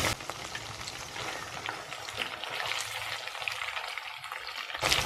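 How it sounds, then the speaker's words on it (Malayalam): Chicken pieces frying in hot oil for restaurant-style chilli chicken, a dense continuous hiss of bubbling oil with occasional stirring, steady and close, ending in a brief louder clatter, with no one speaking. "എണ്ണ ചൂടായിട്ടുണ്ട്. ഇനി ഇതിലേക്ക് നമുക്ക് ചിക്കൻ ഇട്ട് കൊടുക്കാം."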